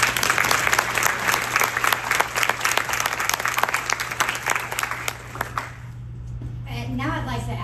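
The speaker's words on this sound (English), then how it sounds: "Please give them another round of applause." A crowd at a Women in Supply Chain & Logistics panel event gives a dense round of clapping that fades out after about five seconds, followed by a voice beginning to speak.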